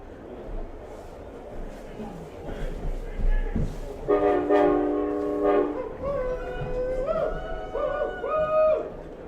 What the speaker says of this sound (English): there is currently a train passing by the field